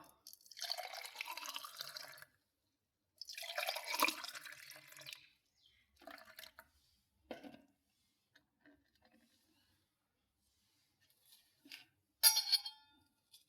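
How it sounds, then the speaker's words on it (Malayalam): Watermelon juice pours into a glass in two short bursts with a gurgling, rising fill, followed by scattered faint drips and clinks in a quiet room. "ഇതൊരു ഗ്ലാസ്സിലോട്ട് ഒഴിച്ചു കൊടുക്കാം."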